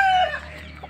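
Aseel chicken giving a single short, close call that trails off quickly.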